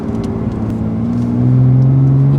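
A remapped BMW M2 Competition accelerating hard, its engine note droning loud and steady and rising in pitch as it pulls through the gear, with no talk over it.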